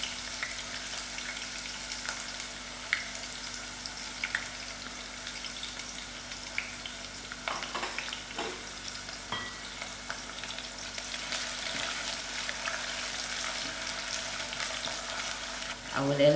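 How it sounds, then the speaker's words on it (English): Sliced onions frying in hot oil for sem and gadra beans, a continuous soft crackling sizzle with occasional stirring clatters, fairly quiet and steady throughout. "I'm going to throw in my sliced onions to fry."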